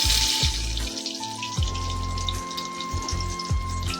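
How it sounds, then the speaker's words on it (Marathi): Aloo bonda potato fritters deep-frying in hot oil, a steady close crackle and sizzle with a bubbling, watery texture and a faint tonal hum behind it, no voices. "बघा अशा प्रकारे छान आपले हे आलू बोंडे मस्तपैकी तळून खुसखुशीत असे रेडी होत आहेत"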